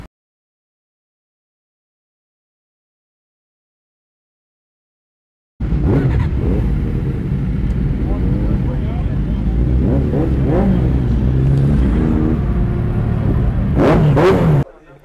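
A Kawasaki H2 superbike engine rumbles and revs in Faisalabad at the start of a group ride, bursting in after several seconds of silence and holding a loud, steady growl with a few sharper throttle blips, with talk beneath.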